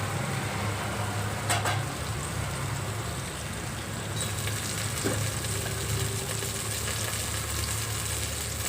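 Onions frying in oil for biryani at a food stall, a steady, even sizzle with faint clinks of stirring over a low background hum, no talking.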